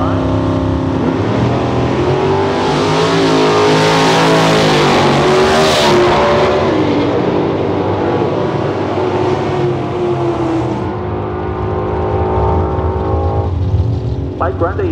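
A loud drag racing roadster engine roars continuously for the whole stretch at a drag strip, its pitch climbing and holding steady as the car accelerates hard, with a crowd-like wash underneath.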